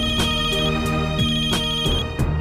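A phone rings with a loud electronic melodic ringtone, a repeating pattern of sustained tones punctuated by sharp rhythmic accents, close and alone with no one speaking.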